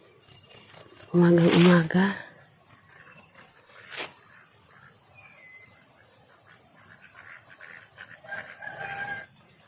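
On a farm in Lagonoy, Camarines Sur, a rooster lets out one loud close crow, followed by softer clucking and chicken calls over a constant bed of chirping crickets.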